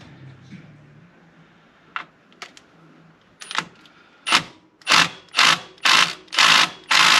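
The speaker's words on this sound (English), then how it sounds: "I'm gonna hit it with this little impact first before I start to go with the big one" A small impact wrench works on a fastener on a dirty coupe during an electric fan install. A few scattered clicks come first, then six rapid, loud hammering bursts follow in a steady rhythm close by.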